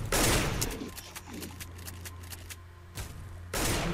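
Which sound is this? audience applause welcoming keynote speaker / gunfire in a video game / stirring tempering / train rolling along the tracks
gunfire in a video game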